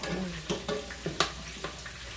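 Korean BBQ chicken wings fry crispy in a pan, a quiet steady sizzle with a few soft knocks and scrapes as they are stirred or flipped, no talking.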